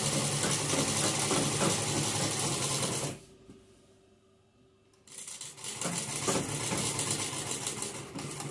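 A sewing machine stitching a dress runs with a fast, steady mechanical whir, stops for about two seconds, then starts up again at full speed. No talking.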